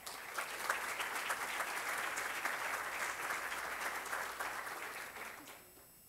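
An audience at a law seminar on the Civil Code applauds in a dense, even wash of clapping that holds steady and then fades away at the end.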